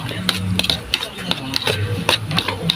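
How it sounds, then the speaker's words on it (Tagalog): A utensil stirs tofu sisig sauce in a pan, giving a rapid series of sharp scraping clicks against the metal at an uneven rhythm, close up, with a voice murmuring underneath. "haluin lang po natin ito"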